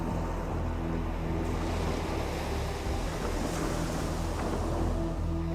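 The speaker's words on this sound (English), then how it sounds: "Despite the threat of storms and huge waves, Leif's crew penetrates ever further into unknown terrain." Waves wash steadily on the open sea off the west coast of Greenland, a dense, continuous roar of surf with wind noise and a low hum like a boat running beneath, no voices.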